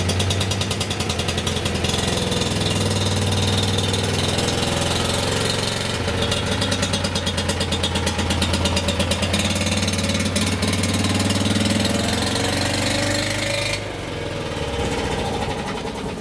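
A BMW Isetta bubble car's small single engine idles steadily after starting on choke, a loud, continuous chugging drone with a constant low pulse that shifts slightly in pitch, then drops in level near the end.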